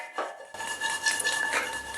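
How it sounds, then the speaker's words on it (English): Cooking pot being shaken on the stove while making popcorn, a short metallic rattle and scraping of lid and pot in two quick bursts, close up with no talk. "it's okay to shake a little bit the cooking pot or the frying pan or the Chinese wok"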